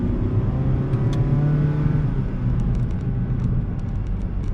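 Honda City Hybrid sedan pulling hard in sport mode, a steady whirring engine drone with road rumble heard from inside the cabin, sustained and fairly loud.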